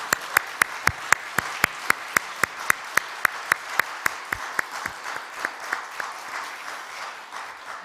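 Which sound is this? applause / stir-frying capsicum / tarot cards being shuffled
applause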